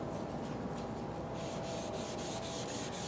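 A cloth rubs powder glaze off the flat surfaces of painted furniture, making a soft, continuous scrubbing and rasping with faint repeated strokes.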